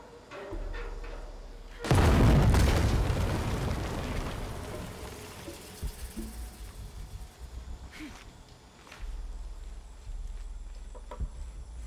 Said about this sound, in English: I thought these cannons would still work.